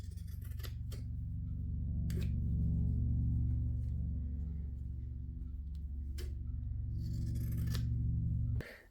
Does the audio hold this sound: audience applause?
no